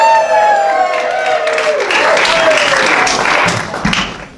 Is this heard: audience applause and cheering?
yes